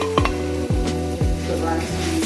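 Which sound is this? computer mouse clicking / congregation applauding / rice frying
rice frying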